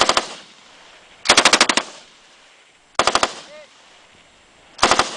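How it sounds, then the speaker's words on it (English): Rapid bursts of automatic gunfire at a shooting range, in three or four sharp, loud strings separated by pauses of a few seconds. A faint voice is heard in the gaps. "Stop shooting the mound."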